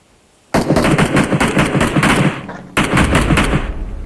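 Bursts of automatic gunfire from a video game battle, a loud sustained machine-gun volley that cuts off briefly and then resumes close by, with no talking.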